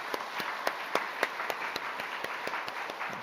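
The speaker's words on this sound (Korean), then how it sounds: "감사의 박수를 드리시겠습니다" A church congregation claps in thanks for the pastor at a Sunday service. The applause is sparse and fairly distant, with a few sharper claps rising above a soft, continuous patter.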